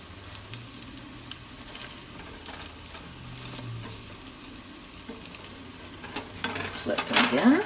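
French toast fries in a hot pan with a soft, steady sizzle, with occasional scrapes and clinks of a utensil against the pan that grow louder near the end.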